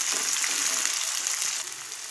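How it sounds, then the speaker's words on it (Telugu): Mustard seeds, cumin and onion fry in hot oil in a pan while being stirred, giving a steady, hissing sizzle with faint scraping, fairly quiet and close. "ఆవాలు ఆనియన్ వేసి బాగా కలుపుకోవాలి"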